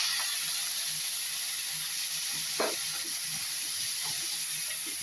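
Ivy gourd stir-fry steaming under a lid after a splash of water, a steady close sizzle and hiss with faint pops, no talking.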